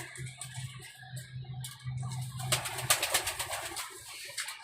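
White pigeons coo softly and repeatedly nearby in a low, rhythmic burble, mixed with scattered clicks and light fluttering.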